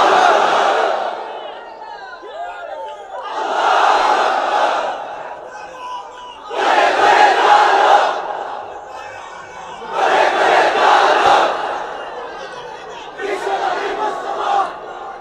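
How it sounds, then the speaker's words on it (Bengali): A large gathered crowd chants the takbir, 'Allahu Akbar', in five loud, roaring bursts spaced a few seconds apart, with brief quieter gaps between the shouts. "তাকবীর পড়েন তো দেখি"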